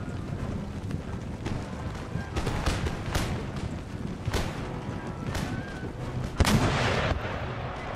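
Cannon and musket fire during a land battle in Empire: Total War, repeated booming shots and crackling volleys at irregular intervals over wind-like battlefield noise, with no one speaking.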